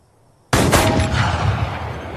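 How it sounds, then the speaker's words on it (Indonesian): A single loud gunshot cracks at a shooting range in a film scene, an abrupt blast out of near silence followed by a long, roaring echo that slowly fades. "pada tembakan pertamanya, Jack meleset dari sasaran"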